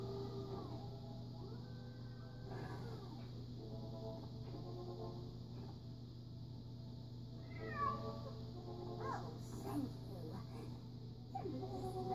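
Video game cat meowing in several drawn-out, rising and falling cries over a steady low electronic hum, fairly faint, with a voice talking at times.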